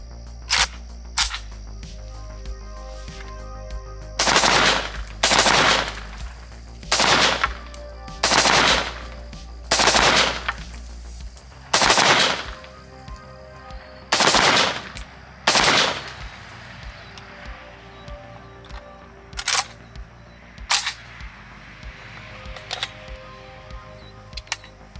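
Rifle fitted with a single chamber muzzle brake fires about a dozen loud, sharp shots at irregular intervals, some in quick pairs, with fainter distant reports between them.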